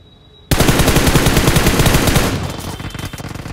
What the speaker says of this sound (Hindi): तभी गाइस होती है मेरे पे फायरिंग